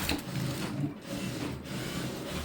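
A sewing machine stitches along piping on a cutwork blouse, a steady quiet mechanical whirr with faint rhythmic clatter running continuously.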